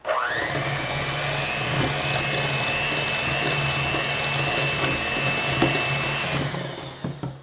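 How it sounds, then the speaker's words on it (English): Electric hand mixer running steadily, creaming butter and sugar for blondies, a continuous motor whine with a high tone held for several seconds before slowing and stopping near the end. "Now let's cream these all together."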